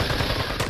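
A shooter video game gunshot, a short, loud, dense crack of gunfire filling a fraction of a second at close range.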